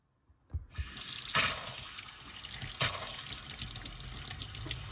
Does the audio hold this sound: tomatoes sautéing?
no